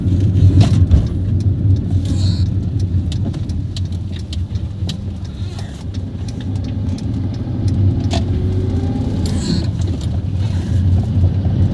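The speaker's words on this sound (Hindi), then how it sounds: "मैं यहाँ से गाड़ी घुमाऊंगा, यू टर्न लेता हूँ एक बार मैं।" A car rumbles with a low, steady engine and road noise as it makes a U-turn, and a few faint clicks and rattles sound inside the cabin.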